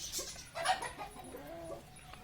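Farm chickens clucking softly at close range, a few short murmuring clucks and calls over a quiet background with no talking.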